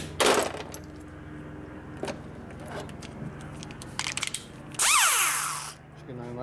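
Die grinder porting the cylinder head of an 80ci Harley-Davidson Evolution engine, heard as a brief high-pitched whine spinning up and winding down near the end, with scattered clicks and handling noise before it.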